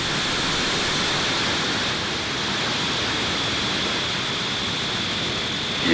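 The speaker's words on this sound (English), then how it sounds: "ignition, engines full power, and liftoff of Starlink 6-10" SpaceX Falcon 9 rocket engines roaring at a Starlink liftoff, a loud continuous broadband rumble and hiss that holds steady without pause for several seconds.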